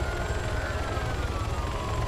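A video game emergency siren wails steadily at moderate volume over a low, pulsing engine rumble, with no talking.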